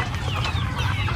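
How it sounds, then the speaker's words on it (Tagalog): A rooster calls in a poultry farm coop, close by in a brief burst over a low background hum. "Yung iba nating tandang sir no, kumakasta na sir no?"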